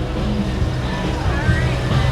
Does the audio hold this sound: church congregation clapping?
no